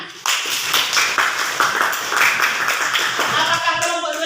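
Students in a classroom clap their hands in a quick, rhythmic burst of close, crisp claps lasting several seconds, with a few voices underneath.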